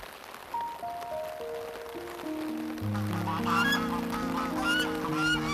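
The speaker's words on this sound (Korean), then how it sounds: "낯선 이의 등장에 달려드는 거위떼." A flock of geese rushes at a stranger beside a peaceful pond, their honking building in loudness and density over sustained, stepping musical tones.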